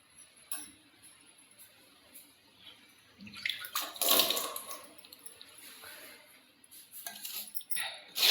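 Water is poured and food is stirred by hand in a container while making a peanut dish, giving intermittent splashing and sloshing with clinks of a vessel, loudest midway and again at the end.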